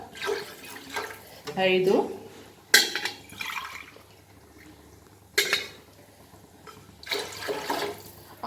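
Water splashes by the glassful into a pot of rice in bursts, a few short pours with gaps between, while a person talks throughout.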